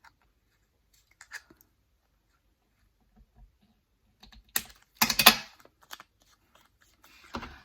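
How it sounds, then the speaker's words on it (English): Paper pieces being snipped level with scissors for a fun fold daffodil Easter card at a desk: a few faint early snips, then a quick cluster of sharp crisp cuts, and a last soft snip near the end. "Then I'm going to cut these all off level with where I was cutting before."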